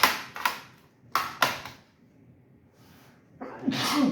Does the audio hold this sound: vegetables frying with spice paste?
no